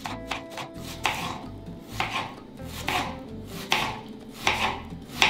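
A knife chops an onion into small cubes on a board, giving sharp, close, rhythmic strikes about once a second in a quiet kitchen with no talking.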